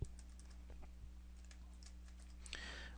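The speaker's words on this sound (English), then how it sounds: "Typing in a comic name or a character name" Faint, scattered keystrokes on a computer keyboard as a character name is typed, irregular clicks over a steady low background hum.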